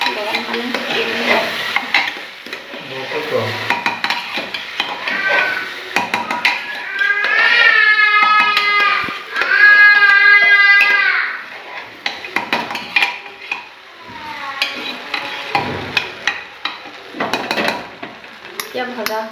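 Chicken pulao ingredients are stirred and fried in a pan, with a steady sizzle under repeated scraping strokes of the spoon and occasional clinks against the pan, close and fairly loud.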